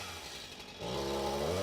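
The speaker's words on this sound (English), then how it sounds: "That would be a chainsaw. That's a chainsaw." Chainsaw droning continuously during fence construction at a horse property, a moderate rough engine whine that revs up and grows louder halfway through.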